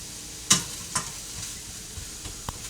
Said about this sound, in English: So, onions in there, they're going to brown fairly quickly.